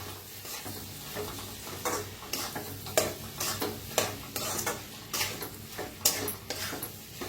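A cluster bean dish with crushed peanuts being stirred in a pan: rhythmic spoon scrapes and clinks against the pan, roughly one per second, over a soft sizzle close by.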